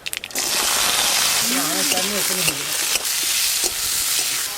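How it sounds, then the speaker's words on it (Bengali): Mustard seeds tempering in hot oil for a mango chutney: a loud, dense sizzle and spatter close up, with a brief voice heard partway through under the frying. "তেল, আমের চাটনিতে সরষে ফোড়ন দেবো"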